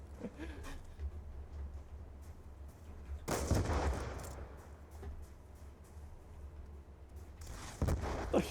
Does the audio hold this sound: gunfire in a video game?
yes